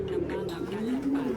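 A pigeon coos at close range in a low, soft, rolling call from a loft of pet pigeons, lasting about a second under faint room noise.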